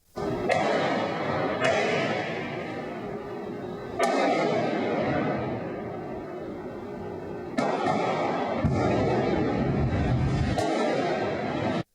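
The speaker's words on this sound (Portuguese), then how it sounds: "os bandidos realizam diversos disparos e explodem os caixas eletrônicos" Gunshots and explosions at ATMs during a bank robbery, heard from a distance as several sharp booming blasts spaced seconds apart, each followed by a long rumbling echo.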